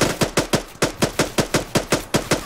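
Gunfire in the Arma 3 video game, about a dozen loud, close automatic shots in a steady, fairly even rhythm with no talk.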